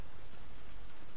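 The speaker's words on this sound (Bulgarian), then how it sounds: "пролетен дъжд. Е така да си вали." Steady spring rain in The Last of Us Part 2, a dense, even hiss of drops falling on surfaces, continuous and fairly loud throughout with no voices.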